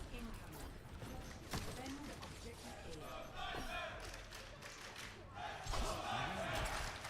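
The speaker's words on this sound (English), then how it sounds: "this is the first time I'm hearing chants" Esports crowd at an Overwatch Champions Series match chanting together, a dense roaring wall of voices that swells and surges, with a commentator talking over it.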